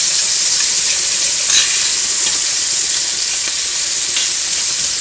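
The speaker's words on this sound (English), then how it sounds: "Stir that around again. Letting it stick there a little bit to the bottom." Shrimp sizzles and fries steadily in a hot pan over medium-high heat for a Greek garides Mykonos pasta, with occasional stirring scrapes under a loud, continuous hiss and no talking.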